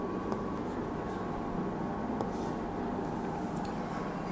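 Pen writing a sentence on paper in a classroom, a soft continuous scratching with faint tapping strokes, low and close, with room hum beneath and no talking.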